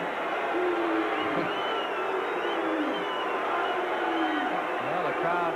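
Dense, steady roar of a basketball arena crowd at a 1986 NCAA second-round game between North Carolina and UAB, with scattered voices and a rising murmur of disapproval that continues throughout without a break.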